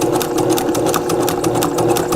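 A sewing machine stitches a small quilt in a fast, even run of needle strokes, a close, loud mechanical whir with a steady pulsing rhythm and no talking.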